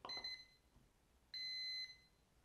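An airsoft battery module gives two high electronic beeps a moment apart, each steady and piercing, the second held longer, against faint background hiss.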